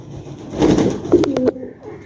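A pet pigeon coos softly at close range, a short rising burst of throaty notes followed by a few brief purring pulses, alone in a quiet room.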